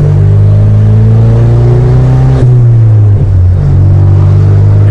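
A car accelerates hard up close, its engine roaring loud with rising pitch, then a quick gear change and more pulling through the gears without a pause.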